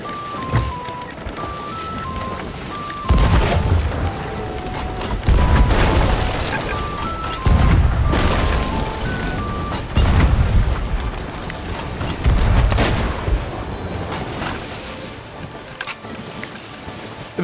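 Gunpowder keg blasts aboard a burning brigantine in the pirate game Sea of Thieves, heard as several deep booms repeating every couple of seconds amid creaking, rumbling ship and game sounds, with game music running underneath.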